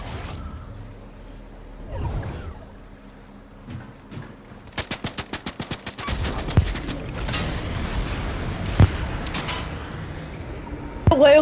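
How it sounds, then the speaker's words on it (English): Gunfire in the video game Fortnite, with a quick burst of evenly spaced shots followed by scattered louder shots and mechanical sounds, while people talk. "He's shooting at me."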